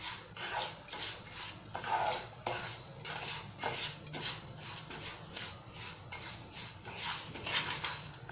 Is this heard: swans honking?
no